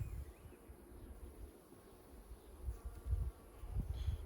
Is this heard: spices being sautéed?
no